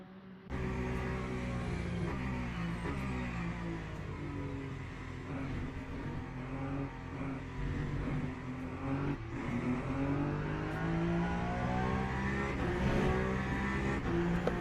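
A race car engine howls continuously in a 12-hour Le Mans racing video game at night, loud and close, with its pitch rising and falling through gear changes and revving for the whole stretch.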